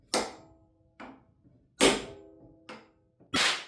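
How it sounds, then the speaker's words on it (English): A big hammer strikes a blank cartridge held in a vise, giving five sharp metallic hits spaced unevenly, each with a short ringing decay. "Hitting the blank with big hammer was one thing"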